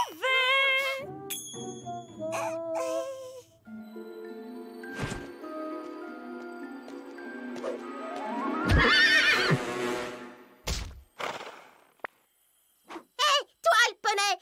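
Cartoon pony whinnies loudly and repeatedly while hooves clip-clop in a steady rhythm, mixed with animated voices and music.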